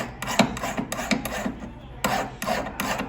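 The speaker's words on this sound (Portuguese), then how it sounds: "É limar aqui o restante do aro." A flat file rasps across a silver ring band in a run of about eight or nine rhythmic back-and-forth strokes, close and fairly loud with short pauses between them.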